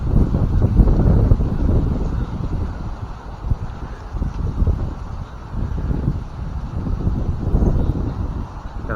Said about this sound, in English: Gotta wait for the wind to stop.